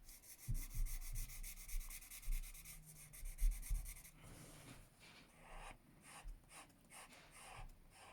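A marker squeaks and rubs as it colours on paper, close and quiet, with continuous scratchy strokes that grow more broken toward the end.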